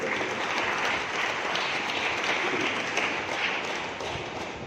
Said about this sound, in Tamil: அவருக்கும் நமது வாழ்த்துக்களை கைத்தட்டி தெரிவித்துக் கொள்வோம்